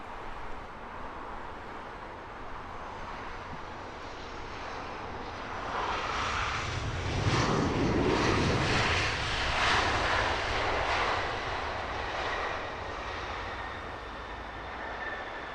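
A British Airways jet airliner touching down at Heathrow Airport after a flight from Copenhagen, its broad engine roar swelling from a steady distant rumble to a loud peak at touchdown, then holding strong as the aircraft rolls out.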